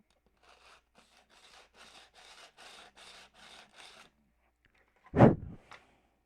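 Hand sanding of a squared piece of wood: about eight steady rhythmic rasping strokes of similar length, moderately close, followed by a sharp louder knock near the end.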